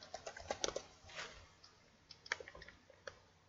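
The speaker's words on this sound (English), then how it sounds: "we're going to double click so that we can type the number 9 in there" A computer keyboard being typed on and clicked, producing quiet, close, irregular taps in short bursts with gaps between, and no talking.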